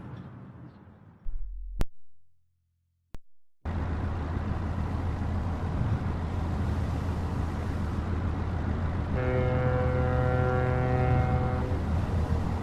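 A chartered boat's engine in the video game Penumbra: Overture hums continuously at a constant loud level after a brief silent gap, with a faint tonal whine joining later.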